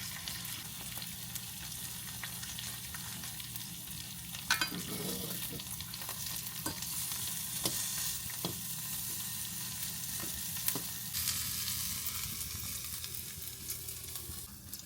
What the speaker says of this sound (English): Got some bacon rolling up here on me, so I'm just going to flatten it back out.